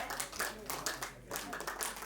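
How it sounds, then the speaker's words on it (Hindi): An audience claps steadily and densely at a blanket distribution ceremony, a continuous patter of hands close by with faint talking underneath. "लगातार तालियां बजनी चाहिए।"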